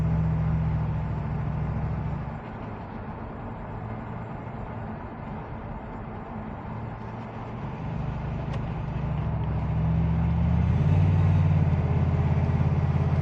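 A Toyota Celica GT SS with a V8 swap drives along, its engine a deep, steady rumble from inside the car that dips and then swells louder as it pulls.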